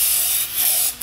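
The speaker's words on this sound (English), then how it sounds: "Get yourself a nice can of brake clean or carb cleaner." A can of brake cleaner or carb cleaner sprays in a steady, close, loud aerosol hiss that dips briefly midway and then surges again, with no voices.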